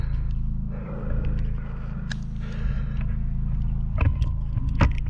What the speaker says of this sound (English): Because I got the generator turned on.